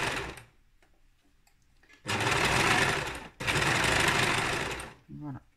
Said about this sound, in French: Voilà, on coud, au fur et à mesure